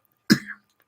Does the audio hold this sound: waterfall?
no